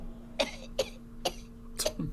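Four sharp coughs in a row, close and fairly loud, evenly spaced with short pauses, over a faint steady hum.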